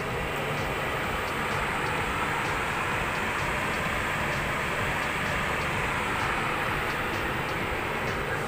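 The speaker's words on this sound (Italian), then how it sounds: "c'è il treno che fa rumore" Steady, loud broadband rumble of a train at Alessandria railway station, a continuous roar with no break or change, no voices over it.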